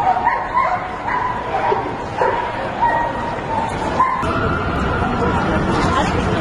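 A dog barks and yelps amid a street protest, sharp repeated barks and whimpers over a dense crowd babble and shouting voices close by.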